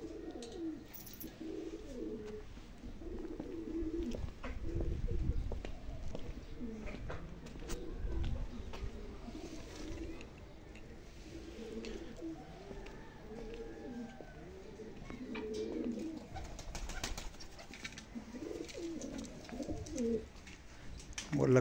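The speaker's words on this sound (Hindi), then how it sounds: "वो लक्का कबूतर जो है ना," Fantail pigeons coo in low, rolling murmurs over and over amid a busy background of rustling, with occasional voices nearby.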